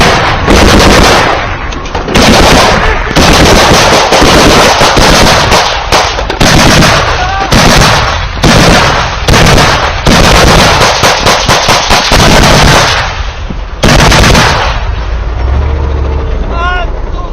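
Heavy, loud bursts of gunfire from a BTR-80 of the 72nd Mechanized Brigade, rapid repeated automatic fire in long strings with short gaps, distorted and close, with shouting voices mixed in.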